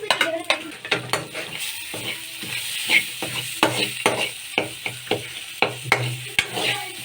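Mint roasts on low heat in a pan for aloo paratha filling, a soft continuous sizzle broken by repeated close scrapes and knocks of a spoon stirring against the pan, no voices.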